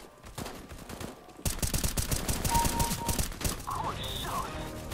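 Automatic gunfire in the shooter game Counter-Strike: Global Offensive, rapid close bursts of shots that thicken into a dense, loud volley lasting several seconds, with scattered game effects.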